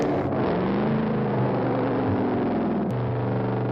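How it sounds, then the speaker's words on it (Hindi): Cartoon petrol motorbikes race against a chocolate bike, a loud steady engine whir and rumble with slowly shifting pitch that drones on throughout, with no voices. "तो रूपेश मान गया और अगले दिन पेट्रोल बाइक्स और चॉकलेट बाइक के बीच मुकाबला हुआ।"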